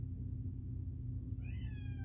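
A house cat gives a single short meow near the end, fairly close but quiet, over a low indoor room hum.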